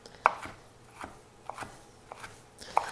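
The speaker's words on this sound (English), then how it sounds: "if you're not comfortable chopping up your spinach, you can buy frozen chopped spinach" Spinach chopped with a knife on a cutting board, giving sharp, separate cuts at an uneven, unhurried pace, close and fairly quiet, with no talking.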